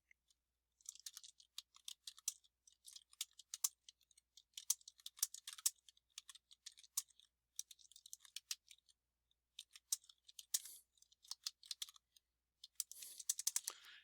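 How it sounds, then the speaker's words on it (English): Quiet, close computer keyboard typing in irregular bursts of crisp key clicks, with short pauses between runs and no voices. "I can type maybe another statement for the document"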